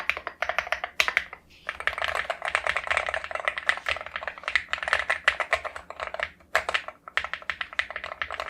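Fingers type quickly on a mechanical keyboard with linear switches, likely the Aula Hero84 He magnetic model, producing dense, close, crisp clacks in fast bursts with a couple of brief pauses.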